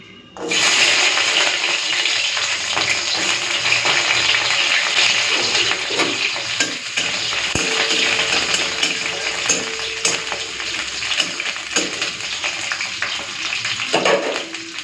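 Dry red chilies and garlic cloves sizzle loudly in hot oil, a steady close crackle and hiss that runs continuously with small spatters and brief clinks throughout.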